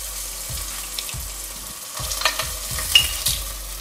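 Onions fry with ginger garlic paste in a pan for egg biryani, a soft sizzle under repeated scraping stir strokes at about half-second intervals, growing a little louder and busier toward the end.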